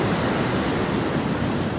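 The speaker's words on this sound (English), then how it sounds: "I'm in the ocean, guys." Ocean surf at a beach, with a dense, steady wash of breaking waves filling the whole moment, loud and close with no voices.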